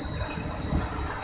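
A train runs along the railway near Boddavara with a low, steady rumble heard from on board, briefly and faintly.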